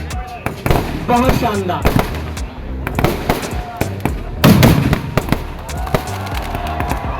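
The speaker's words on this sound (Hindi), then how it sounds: "आज यहाँ आतिशबाजी के बहुत सारे रंग हमारे इन आतिशबाजों ने बिखेरे हैं।" Fireworks bursting at the Dewa Sharif fair, a rapid series of loud pops and crackles with a heavy boom near the middle, a crowd murmuring and a voice speaking over the display.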